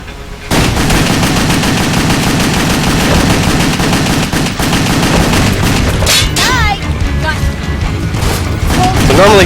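Rapid pistol gunfire from the video game WET, with loud repeated shots and booms in quick succession throughout, mixed with game effects, while a voice talks over it.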